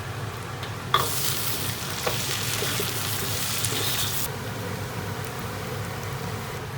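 Dried chilies and rabbit meat stir-frying in a hot wok, a dense steady sizzle that swells loudly after a sharp clank near the start, with occasional scraping stirs, close and continuous with no talk.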